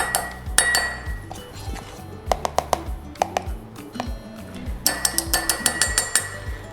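A spoon clinks against a mug while tablespoons of dark cocoa powder are added to a microwave mug cake mix, giving a few close, bright taps and then a quick cluster of ringing clinks.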